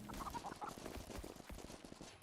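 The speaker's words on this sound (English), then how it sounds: "I can also spawn a bunch of chickens." A bunch of spawned chickens cluck in the Gunforged video game, several faint overlapping clucks and squawks scattered over a soft busy game background.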